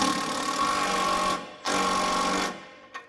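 An impact gun tightens sway bar link nuts on a Subaru Forester: two loud, sustained buzzing, rattling bursts of about a second and a half each, then a brief final blip, close up with no voices.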